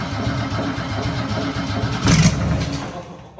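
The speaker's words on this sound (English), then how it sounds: "Jet boat motor, start one." An outboard jet boat motor on its first start-up churns with a low steady rumble, then surges briefly louder partway through before settling back to a rough idle.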